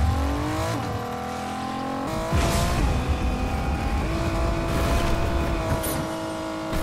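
A car's engine revs in a video game, climbing through several gear shifts with steady rising pitch and a tire squeal, close and loud with no talking.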